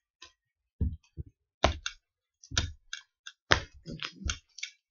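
Tarot cards being cut and shuffled by hand, a sequence of sharp close card snaps and riffling clicks in irregular bursts separated by brief silences.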